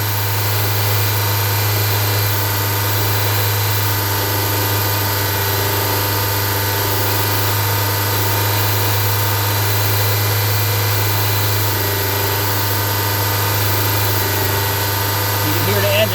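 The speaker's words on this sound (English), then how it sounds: "You can hear the engine stumble or misfire." A 2020 Honda CR-V GDI engine drones steadily at idle with a rough, uneven running quality, stumbling and misfiring, loud and close, with no talking over it.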